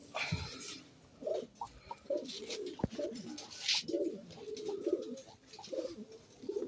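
Racing pigeons cooing in a loft, soft repeated throaty coos from several birds at close range, with a few flutters and a sharp knock, and no talking.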